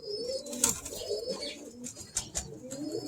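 Birmingham Roller hens coo softly in a loft, low rolling calls repeating under faint background rustle and occasional higher chirps, fairly close but quiet.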